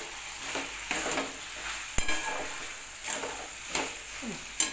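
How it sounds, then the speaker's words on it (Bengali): Spatula stirring chopped coriander leaves through a thick pumpkin, potato and hilsa fish head ghonto curry in a pan, soft scraping strokes repeating with a faint sizzle underneath and a few sharper clinks of utensil against the pan. "ধনে পাতা কুচিটা দেওয়ার পরে খুন্তি দিয়ে একটু মিক্স করে নেব পুরো তরকারিটার মধ্যে"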